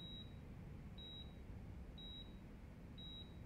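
Steady electronic beeps in the video game Yakuza 6, like a monitor left running: four short, high beeps, one each second, faint over a low background hum.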